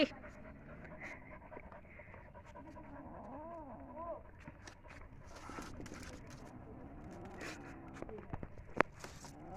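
A dog pants quietly somewhere nearby amid a faint outdoor setting, with brief bird calls and occasional taps around it, low in level throughout.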